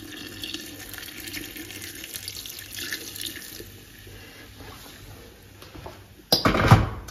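Water pours from a tap into an Afghan kazan of duck with beer, a sudden loud splashing gush near the end after a stretch of quiet kitchen background.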